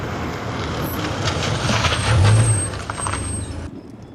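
A truck rumbles to a halt, its engine noise swelling before a sharp hiss of air brakes releases and then cuts off abruptly, heard close with no one speaking.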